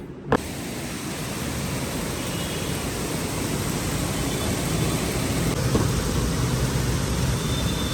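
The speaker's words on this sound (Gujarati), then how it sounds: "ધોધમાર વરસાદ વરસાદ વરસાદ જોરદાર વરસાદ હો ભાઈ" Steady, dense roar of heavy rain pouring down without a break, loud and close throughout.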